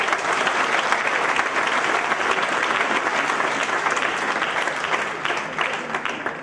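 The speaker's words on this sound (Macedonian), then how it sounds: "аплауз за свекрвите, ве молим" Applause from a Macedonian stand-up comedy audience fills the room, dense steady clapping throughout, loud and close, fading only slightly at the end.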